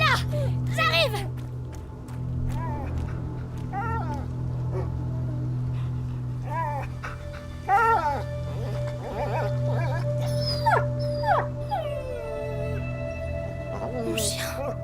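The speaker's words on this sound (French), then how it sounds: "Viens, mon chien!" A dog in A Plague Tale: Innocence whimpers and yelps in repeated short, pitched cries over a steady low droning background, with a voice speaking in between.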